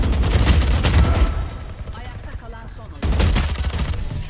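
Rapid gunfire rattles in a Valorant match in bursts, loud at first, easing off midway, then resuming in a dense volley.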